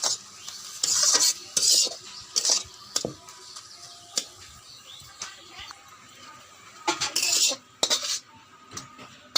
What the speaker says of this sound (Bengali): সম্পূর্ণ শাকটি আমি থালার মধ্যে নামিয়ে নিলাম।